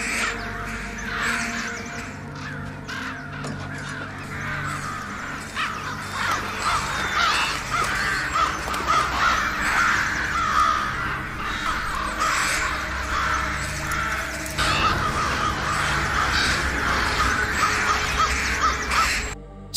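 Dozens of crows caw from a tree, overlapping harsh calls repeating densely and loudly throughout with no pause.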